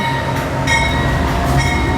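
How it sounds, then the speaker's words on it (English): A train rolls past a small Illinois stop, loud and close, with a heavy steady rumble of wheels and car bodies overlaid by sustained metallic tones. "Here's the train."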